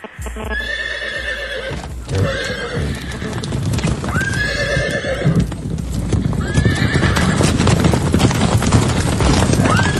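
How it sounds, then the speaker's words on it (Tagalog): Horses close by, hooves clip-clopping in a steady busy rhythm while several loud whinnies and neighs rise over them again and again, continuous and near throughout. "May mga kabayo dapat ha."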